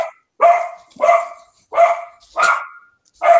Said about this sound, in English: The dog agrees with you, I guess?